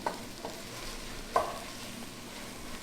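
Onions caramelizing in a pan while being stirred, giving soft scraping and stirring sounds with a faint sizzle. One sharper scrape stands out midway, and the rest is quiet with no talking.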